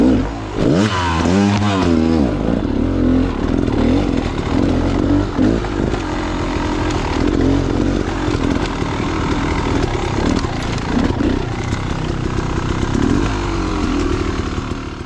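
A trail motorcycle at Clough State Park runs loud and close throughout, its engine revving up and down with rising and falling pitch while riding rough terrain, with clattering from the bike and no talk.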